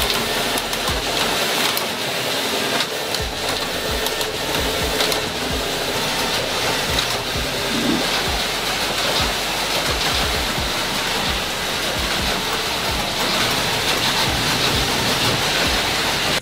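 An automatic knitting machine works wool yarn into sweater parts such as sleeves, making a dense, steady mechanical whir and clatter that runs continuously and loud from start to finish, with no voices.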